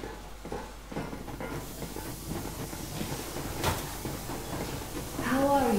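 A steam train from Metro Exodus, the Yermak, rolls along with a steady low rumble and hiss, while voices talk over it and a rising whistle-like tone swells near the end.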